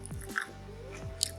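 Someone bites into and chews a crab rangoon, with a soft crunch and a few close, moist chewing sounds over a quiet background and no talking.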